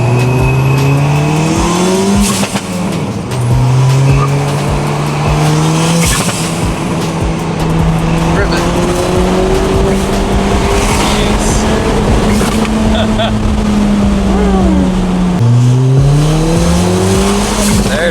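A borrowed sports car accelerates hard on a scenic cruise, its engine climbing through the gears in repeated rising sweeps with shift breaks, loud and close from inside the cabin, with some tire noise.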